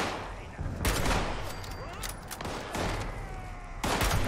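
Gunfire in the video game Fallout 76, several loud shots and bursts spaced across a few seconds over a dense, noisy game background.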